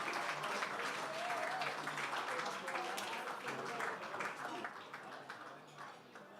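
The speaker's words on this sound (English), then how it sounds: "Let's give all of them a big round of applause." Applause from a room of people, fairly distant and soft, with faint voices mixed in, tapering off toward the end.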